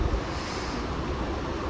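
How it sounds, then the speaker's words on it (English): Water outdoors in a park gives a steady, full rushing wash with low wind rumble, continuous and fairly loud, with no voices. "as you're listening to the sounds of the water"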